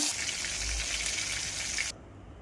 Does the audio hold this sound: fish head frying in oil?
yes